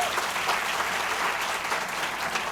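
Audience at a seminar clapping to welcome the speaker, dense steady applause that fills the room throughout.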